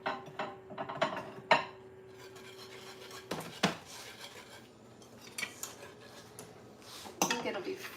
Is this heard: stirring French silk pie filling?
yes